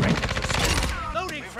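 Rapid automatic fire from an ISO 45 submachine gun in Call of Duty: Modern Warfare II, a dense, fast burst of close shots lasting under a second, followed by fainter game sounds and brief voice.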